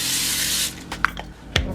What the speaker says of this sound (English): I'm going to spray my parchment paper